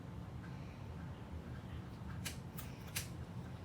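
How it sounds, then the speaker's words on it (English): Scissors snip through a shirt's fabric in a few short, crisp cuts that come close together near the end over quiet room noise, with no talking. "just cut the shirt in half"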